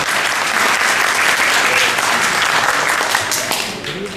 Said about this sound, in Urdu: پہلے تو ایک بھرپور تالیاں جو ہے آپ کی طرف سے گورنر صاحب کے لیے